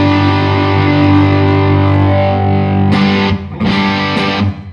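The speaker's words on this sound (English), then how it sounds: "And then my third level being more of a full-on actual distortion." Electric guitar played through full-on distortion rings out in sustained, thick chords, then breaks into a few short choppy strums near the end; loud and alone with no talking.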